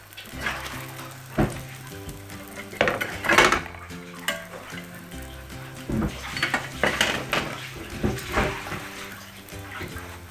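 Meloui flatbread being flipped and handled in a pan, with close metallic clatters and scrapes of a utensil and cookware, irregular bursts over a low background hum and no speech.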